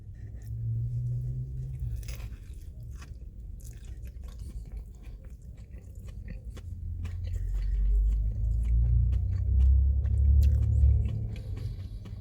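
Close, wet chewing and crunching of spicy food and coleslaw during a mukbang, steady mouth sounds with soft squishes and no talking.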